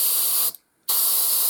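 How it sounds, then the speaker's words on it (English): An airbrush sprays Vallejo gunmetal silver paint in a steady, loud hiss that runs on, cuts out briefly for about a third of a second, then resumes at the same even level. "So I'm using an airbrush for speed"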